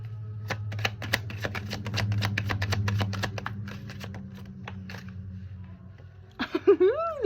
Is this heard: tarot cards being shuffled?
yes